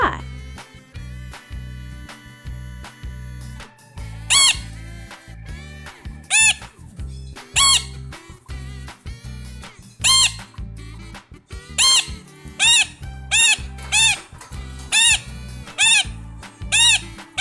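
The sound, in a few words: macaw parrot squawking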